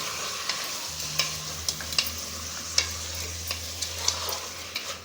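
Chicken pieces fry in a pan for pepper chicken fry, a soft low sizzle under repeated light scraping strokes of a spoon stirring at an even, unhurried pace, close and fairly quiet, no talking.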